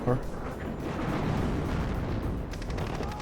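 Bomber strike explosions in the WARNO war game, a continuous rumbling roar of blasts at steady loudness throughout, with a brief voice at the start.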